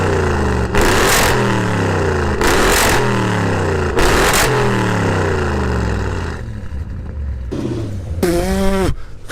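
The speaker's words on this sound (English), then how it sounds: "Have a little listen to this. Full Miltech exhaust system," An Audi RS6 with a full Milltek exhaust system revs hard in three repeated bursts, each rising to a loud roar then dropping back to a burbling idle, followed by a final whining rev.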